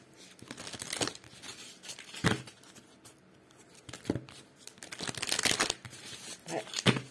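Oracle cards being shuffled by hand during a daily card reading, a series of crisp papery riffles and swishes in irregular bursts, fairly close and moderately quiet, with no talk.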